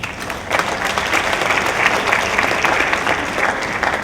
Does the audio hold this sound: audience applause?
yes